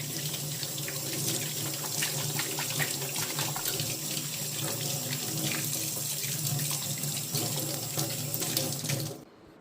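Silver items being washed under a running kitchen tap, a steady close stream of water splashing in the sink that stops abruptly near the end.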